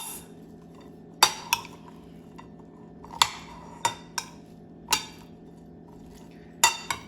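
Utensils clink against a bowl while a vegan beet salad is tossed: about nine sharp, bright taps at uneven intervals over a quiet background.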